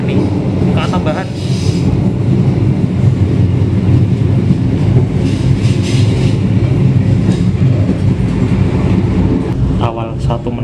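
A Taksaka passenger train on the Jakarta–Yogyakarta route rumbles steadily past, a loud continuous roar with faint rattling, filling the whole stretch without pause.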